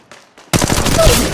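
Automatic weapon fire in the mobile battle royale game Apex Legends Mobile: after two faint taps, a loud, dense burst of rapid shots erupts and sustains to the end, close and dominant.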